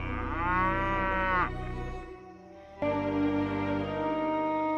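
A cow at a cattle market lets out a long, loud, close moo. After a brief pause a second sustained bellow follows, with no talk over it.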